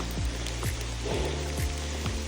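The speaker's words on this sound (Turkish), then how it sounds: "Şu an yağmur sağanak olmasa da şiddetini artırıyor gibi de." Steady rain falls through a misty forest on a Balkan mountain trail near Plav and Vusanje, a continuous close hiss of drops with soft irregular patter and no voices.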